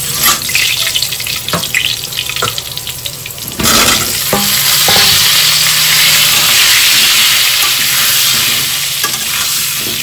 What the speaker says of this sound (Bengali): আর প্রথমে একটু আলুগুলো ভেজে নেব।